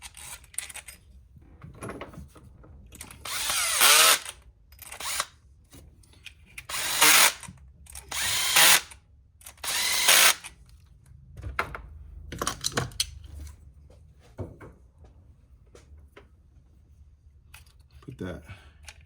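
Power drill driving ignition coil screws back into a 2.0T Volkswagen Tiguan engine, several loud whirring bursts of a few seconds each, close up, with someone talking between them.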